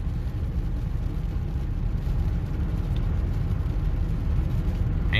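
A 2000 Lincoln Town Car, just fitted with new outer tie rod ends and idler arm, cruises down a road with a steady interior rumble of engine and tire noise, continuous and even.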